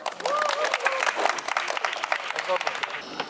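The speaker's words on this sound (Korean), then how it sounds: "박수 우리 해줘" Residents applaud at the closing ceremony of an apartment complex tennis class, a crowd clapping steadily with a few cheers while voices speak over it nearby.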